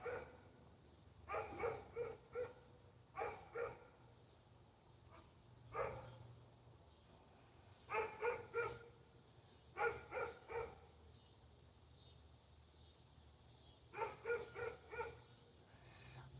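Dogs bark in short clustered bursts, several barks at a time with pauses between, sounding somewhat distant over a quiet background.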